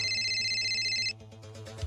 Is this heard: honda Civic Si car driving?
no